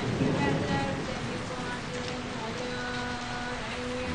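Rain falls at night in a steady, hissing patter that stays even throughout, with faint voices underneath.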